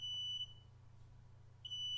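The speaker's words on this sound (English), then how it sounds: "I think my fire alarm's going off." A home smoke or fire alarm sounds a piercing high electronic tone, heard as two loud bursts at the start and the end with a low hum between them.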